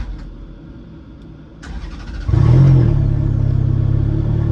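A car engine cranks and catches after a push-button start with the brake pressed, then settles into a steady, loud close-up idle with no talk.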